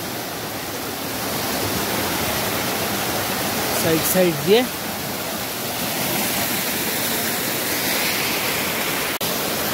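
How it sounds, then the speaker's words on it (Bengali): A mountain waterfall stream on the Uttarey to Chewabhanjyang trek route in Sikkim, being crossed on foot, gives a steady, close rushing roar throughout, with a brief spoken voice partway through. "এই হচ্ছে সেই ঝর্ণা, আর পার হচ্ছে, সব পার হচ্ছে।"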